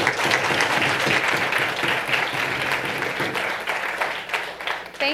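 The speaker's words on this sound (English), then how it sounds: "Can we please give a round of applause for our speaker?" An audience applauds a speaker after a talk, steady dense clapping that carries through the whole stretch at an even level, with no voices over it.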